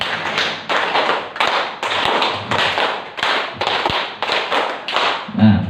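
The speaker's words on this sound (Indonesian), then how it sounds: "3 kali tepuk 5" A group claps out a rhythmic pattern of one, two and three, four and five clap sequences during a teachers' module 1.4 positive-culture dissemination session, with sharp, loud bursts in quick regular groups and a soft thud at the end.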